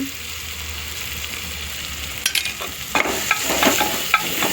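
Vegetables and moong are stirred in a sizzling pan: a soft frying hiss at first, then several sharp scraping and clattering strokes of the spoon, with no voices.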